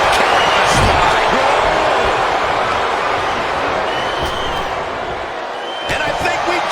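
A wrestling match crowd roars loudly and continuously, a thick, sustained wash of cheering with occasional sharper bursts rising from the mass of noise.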